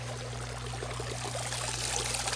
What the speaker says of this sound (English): this is the water coming in from the filter, obviously clean